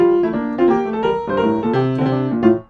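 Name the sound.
bar 62 of Bach fugue played with all sixteenths swung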